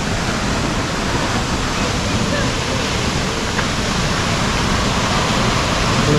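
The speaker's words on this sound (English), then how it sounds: "So we stop near the Seven Sisters waterfall." Steady, dense roar of falling water spread across all pitches, continuous and unchanging throughout, from the Seven Sisters waterfall in Sikkim heard up close.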